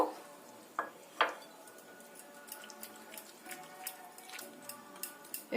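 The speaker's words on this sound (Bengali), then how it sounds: "দই আর সুজি খুব ভালো করে মিশিয়ে নেব" Spoon scraping and clinking in a bowl while sour yogurt and semolina are mixed into a smooth paste, a few louder knocks among steady soft scraping and taps, close and alone.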